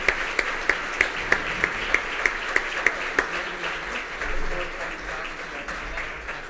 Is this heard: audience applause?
yes